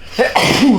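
A single short sneeze, close and fairly loud, with a sharp nasal burst and a brief tail, heard alone without talk.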